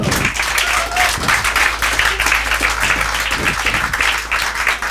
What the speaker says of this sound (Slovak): veľký potlesk pre neho